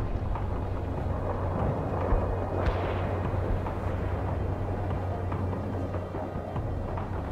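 Heavy gunfire and artillery rumble together in a World in Conflict battle, a dense, unbroken roar of shots and booms that stays loud from start to finish with no pauses.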